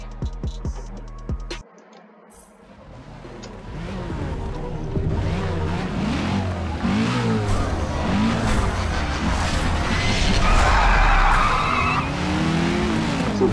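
Racing car engine in a Miami street racing video game, starting against an old Porsche, with a rising engine roar and tire squeal building into a loud, continuous drone.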